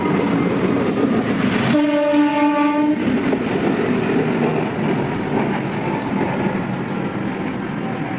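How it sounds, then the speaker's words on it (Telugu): A railway locomotive approaches a train to be attached, sounding one loud, sustained horn blast over a steady rumble of rail traffic, after which the rolling noise carries on alone. "ఇంజిన్ వస్తుంది చూడండి"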